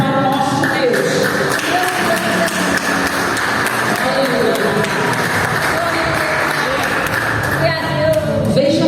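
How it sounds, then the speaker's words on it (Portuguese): A church congregation breaks into sustained, dense applause filling the room, loud and continuous throughout, with some voices rising over the clapping. "Uma salva de palmas para o nosso Deus."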